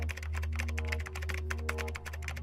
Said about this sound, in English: I proceeded to type on the keyboard.